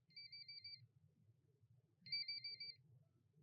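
A phone ringtone sounds for an incoming call, two short bursts of a clean electronic two-tone chime separated by a pause, with a faint low hum underneath.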